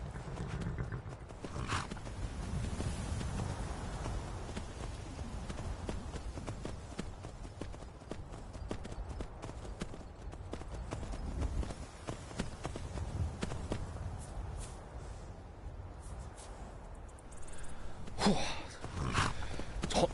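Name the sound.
horses walking, hooves clip-clopping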